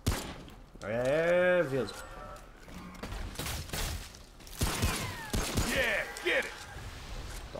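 Gunfire in the video game Remnant: From the Ashes, with sharp shots and bursts scattered between a player's Portuguese commentary, along with some whining, tonal game effects.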